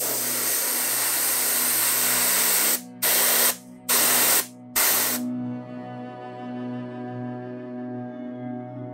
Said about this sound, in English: And I'm spraying that from the side and the bottom.